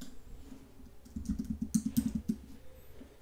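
Typing on a computer keyboard, a quick close run of crisp clicking keystrokes after a quieter start, alone in a quiet room.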